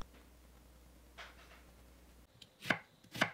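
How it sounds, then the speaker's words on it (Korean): Knife chopping half an onion on a cutting board, a couple of faint soft cuts followed by two sharp, close, distinct chops near the end, with no talking. "양파 반개를 썰어 주세요."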